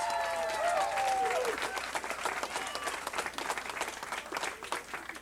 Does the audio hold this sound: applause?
yes